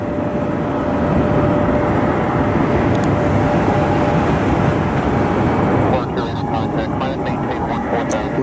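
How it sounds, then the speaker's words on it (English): A United Airlines airliner lands on runway 6 left at Cleveland, producing a broad, steady roar of jet noise heard from a distance. The rumble holds throughout and shifts texture near the end, with a voice talking over it. "As United Airlines 405 lands on runway 6 left"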